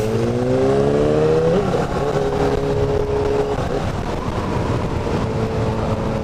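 A motorcycle engine with a stock exhaust revs up loudly nearby in Miami, pitch climbing then dropping and settling into a steady drone.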